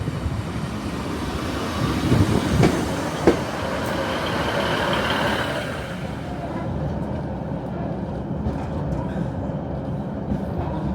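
A Northern passenger train runs at a Lancashire station platform, a steady rumble and rolling noise with a few metallic clanks early on, fading somewhat toward the end amid ambient station sound.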